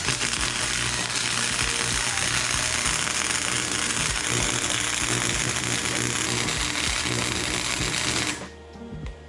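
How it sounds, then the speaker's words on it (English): Welding the ends of a homemade metal tool, a steady, loud crackling buzz that runs without a break for about eight seconds and then stops. "Now we'll just weld up the ends."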